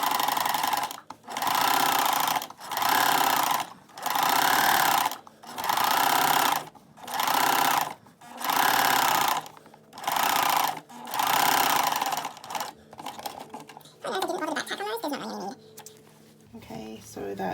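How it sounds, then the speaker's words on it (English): A sewing machine stitches a pants pocket seam in about eight rhythmic bursts of fast mechanical whirring separated by short pauses, then fabric handling and softer clatter, close up. "I'm going to sew just a pin width away."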